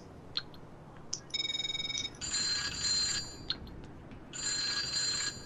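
Electronic phone ringtone in the online video game GTA Online, sounding in bright repeated trilling bursts with short pauses between them, fairly close and clear, with no talking over it.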